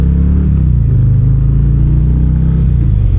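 A 2025 Harley-Davidson Breakout cruiser with a 240 rear tire rumbles steadily while being ridden, its loud, low, continuous engine drone close and alone with no talk, pitch shifting slightly as it rolls through a turn.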